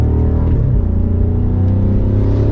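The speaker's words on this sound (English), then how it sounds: "We'll give it another acceleration though." A 2023 BMW M550i accelerates hard, its engine note loud and close with a steady rising drone and a brief dip as a gear shifts quickly partway through.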